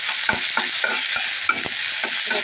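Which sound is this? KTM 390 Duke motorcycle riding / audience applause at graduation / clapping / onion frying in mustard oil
onion frying in mustard oil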